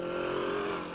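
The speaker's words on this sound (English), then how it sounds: "Here we have Peter Clout driving his Lee Francis engine single-seater HRG." A single-seater HRG race car with a Lee Francis engine drones past at speed, a steady engine tone held at a fairly even level, heard alone without talk.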